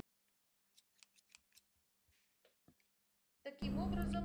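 Scissors snip through layered lace and silk fabric along a dress seam, a run of crisp, close cuts in uneven rhythm, followed by a loud sustained hum near the end.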